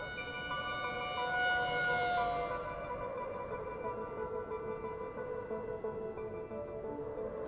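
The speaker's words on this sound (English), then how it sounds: "An ambulance rushed both men to Paddington General." An ambulance siren wails on its way to a hospital, a steady rising and falling tone with a swell of passing traffic noise, holding loud and unbroken throughout with no voices.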